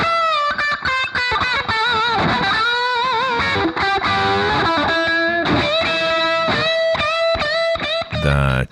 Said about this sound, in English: the basic distortion is made by the tube and a very rare op-amp